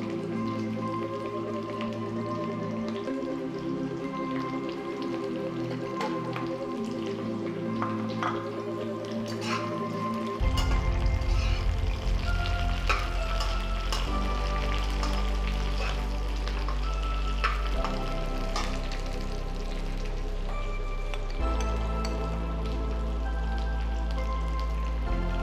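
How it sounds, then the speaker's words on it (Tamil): Capsicum shallow-fries in a pan with onion for chilli paneer, giving a soft, steady sizzle and crackle with scattered pops, running continuously beneath louder background music. "டீப் ஃப்ரை இல்லை, ஷாலோ ஃப்ரை தான் பண்ணணும்."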